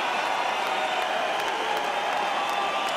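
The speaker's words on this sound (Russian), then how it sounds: "Заслуженные аплодисменты Владимиру Кличко." Crowd at Stade de Suisse applauding boxer Wladimir Klitschko after his fight with Tony Thompson; a dense, even wash of clapping and cheering from a large distant stadium audience, constant throughout.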